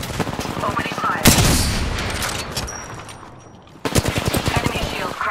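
Rapid bursts of automatic gunfire from an Apex Legends match crackle loud and close, a fast rattling volley, a fading tail and short pause, then another sharp burst of shots.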